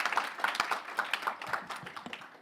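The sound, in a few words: audience applause for panelists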